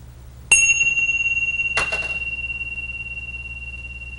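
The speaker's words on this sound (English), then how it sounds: "Now we'll end the meditation with a soft ringing of the bells." Two soft meditation bell strikes, the second about a second after the first, each leaving a long, pure ringing tone that slowly fades with a gentle pulsing shimmer.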